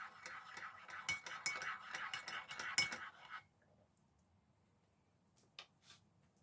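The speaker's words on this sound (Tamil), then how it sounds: "இப்போ இதை வடிவாக மிக்ஸ் பண்ணி விட போகிறேன்" A spoon stirs sugar into vanilla tea, making about three seconds of quick, quiet, rhythmic clinks against the cup, then near silence broken by a couple of faint taps.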